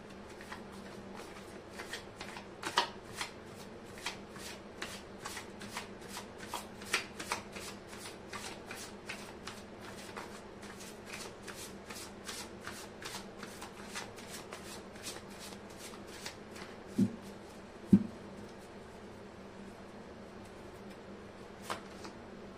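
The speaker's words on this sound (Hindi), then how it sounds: "मैं कर लेती हूँ कार्ड की शफलिंग।" Tarot cards being shuffled by hand up close: a long, quiet run of rapid, rhythmic riffling flicks repeating evenly for over twenty seconds, with a few louder taps and no talk.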